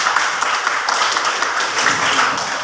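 A classroom of students applauds during a maths lesson, a dense, loud patter of many hands clapping that carries on throughout.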